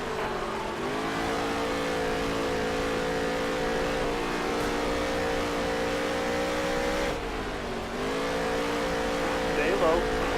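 Race car engines in the NASCAR Heat 3 video game at the Eldora dirt track drone loudly and steadily, rising and dipping with acceleration, while someone talks over them.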